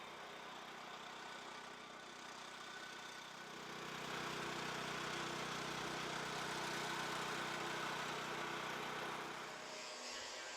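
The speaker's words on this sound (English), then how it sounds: "Powered by 2 Honda engines driving hydraulic pumps, this design was specified with the RLR in mind" Two Honda engines driving hydraulic pumps on a rail track machine run with a steady mid-pitched drone and broad mechanical rumble that swells somewhat louder partway through, with no talk.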